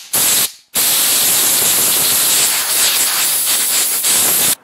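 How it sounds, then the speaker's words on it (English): Compressed air blasting into the carburetor of a Briggs lawn mower engine, a loud, close, continuous rushing hiss in two bursts split by a short pause. "what I'm going to do now is hold the spring and just air blow inside the carb a bit"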